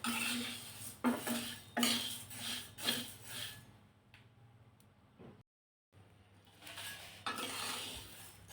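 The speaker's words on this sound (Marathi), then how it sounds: "आपण मसाले मध्यम आचेवर व्यवस्थितच भाजून घ्यायचे आहे" Coriander seeds and spices dry-roasting in a pan over medium heat, with a spoon scraping and stirring in rhythmic strokes, a short quiet gap, then more stirring; close and moderately loud, no talk.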